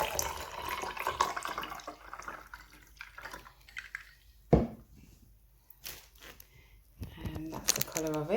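Water runs and splashes into a glass, with trickling and a few drips, close up, fading into quiet before some clinking at the end.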